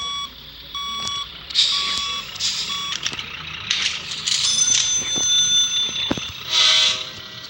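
Vehicle reversing alarm beeping in a steady repeated pattern amid surrounding traffic noise, with other high tonal bell-like chimes layered over it, fairly close.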